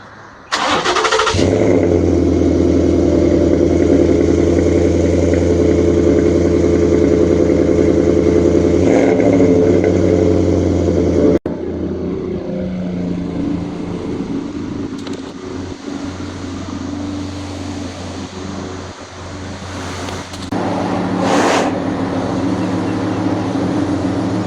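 A 2019 Ford F-150 pickup's engine runs loud and close, idling steadily before easing into a lower rumble as it rolls into a garage, with a brief revving swell near the end.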